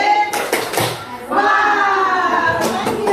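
A group plays a rhythmic hand-clapping game called tepuk wow: a few sharp claps land in quick succession, and then voices chant along loudly.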